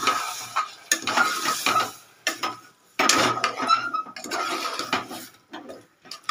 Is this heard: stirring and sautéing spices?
yes